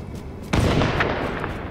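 Loud explosion boom in The Division video game at an extraction point in daylight, a sudden blast with a sustained rumbling tail and a few smaller crackling bursts following.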